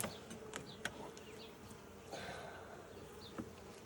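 Honeybees buzzing in an open hive as frames stuck with propolis are lifted: a faint, constant swarm hum with individual bees droning close past, plus a few soft clicks and scrapes.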